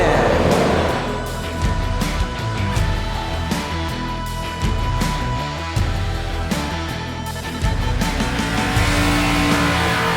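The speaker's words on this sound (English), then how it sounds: "people who have built specific cars for the purpose of ripping a mad skid" A purpose-built car does a burnout at the Summernats car festival, its engine revving hard and its tires squealing continuously through a loud, close stretch, with crowd noise and brief talk in the background.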